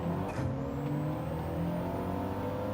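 Toyota Supra race car engine in Gran Turismo 7 during a league race, a steady loud whirring drone with sustained tonal harmonics, holding near and constant throughout with no pauses.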